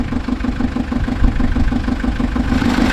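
A narrowboat engine runs steadily up close, a loud, even chugging throb with a regular beat and no talk over it.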